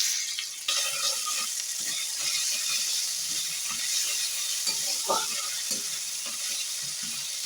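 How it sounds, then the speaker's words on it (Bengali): Green chili and ginger paste frying in hot mustard oil, with black cumin and asafoetida, a loud continuous sizzle and hiss heard up close, with occasional stirring clicks and no talking. "একটু ভাজা ভাজা করে নিচ্ছি"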